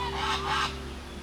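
Brant geese honk in a loose flock, two overlapping bursts of nasal calls at moderate distance over a steady low hum.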